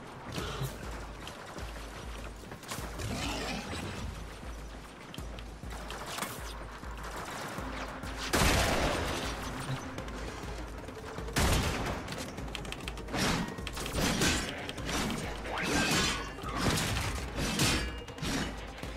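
Gunfire from the Warframe video game: a long stretch of rapid, dense shots in bursts over game effects and music, with a few heavier cracks standing out, fairly loud throughout.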